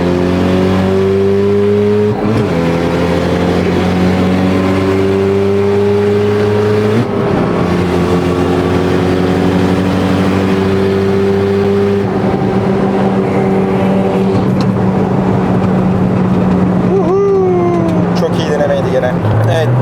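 Cars launching hard at a night drag race in Istanbul, engines roaring loudly and climbing in pitch through several upshifts, with short shift gaps and a squeal near the end, commentary talk riding over the noise.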